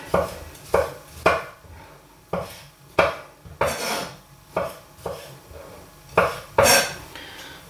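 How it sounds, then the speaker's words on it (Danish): A knife chops rinsed tomatoes finely on a board for a prawn cocktail, about a dozen sharp, steady knocks in an unhurried rhythm, close and clear with no talking. "De skyllede tomater skal hakkes fint."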